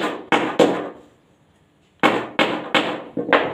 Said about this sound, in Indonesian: baru kita paku dulu ini